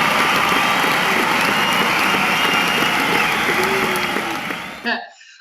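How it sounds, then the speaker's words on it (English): Classroom hand claps given to a second-grade class as praise, a dense, steady patter of clapping that fills the clip loudly before cutting off abruptly near the end. "Let me go ahead and give you some hand claps though"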